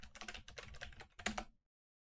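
A quick burst of keystrokes on a computer keyboard as a password is typed, a dozen or so light, close clicks over about a second and a half, then silence.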